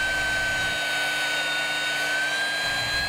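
Hougen HMD914 lightweight portable magnetic drill with its motor running as the cutter starts slowly into material, giving a steady, loud, high whine with a constant tone and no talk over it.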